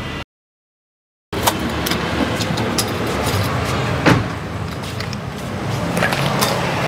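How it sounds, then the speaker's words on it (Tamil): A used car at a Tirupur car dealership fires up after a brief moment of silence, then settles into a steady, loud engine run close by. No voices are heard over it. "வாங்க, வண்டியை ஸ்டார்ட் பண்ணி உங்களுக்கு காமிக்கிறேன்."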